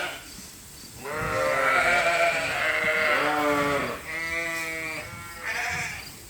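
Dorset-type sheep on a farm, freshly trimmed around the heads, bleat loudly and close by in several long, wavering calls that overlap and follow one another across the stretch, with no talking.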